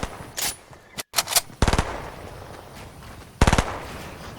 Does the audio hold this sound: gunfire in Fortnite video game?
yes